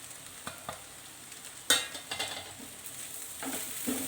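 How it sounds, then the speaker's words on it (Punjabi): Onions with ground coriander, cumin, salt, turmeric, Kashmiri red chilli and vegetable masala stirred and frying in a pan for baingan bharta: a steady close sizzle with scraping spoon strokes and a sharp clatter near the middle. "ਮਸਾਲੇ ਨਾਲ ਲਾ ਕੇ ਆਪਾਂ ਚੰਗੀ ਤਰ੍ਹਾਂ ਮਿਕਸ ਕਰ ਦਿੰਨੇ ਆ"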